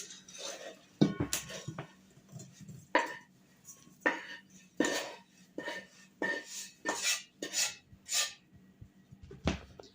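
A sticky zhent mixture is scraped from a cooking pot into a dish, with repeated metallic scrapes, clanks and knocks of utensil on pot at an irregular pace.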